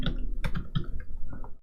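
Quick clattering keystrokes on a computer keyboard, a short irregular run of taps and clicks lasting under two seconds, close and clear with no speech.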